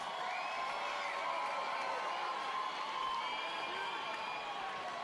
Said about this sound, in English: Put your hands together for both fighters. Please, ladies and gentlemen, they deserve your applause.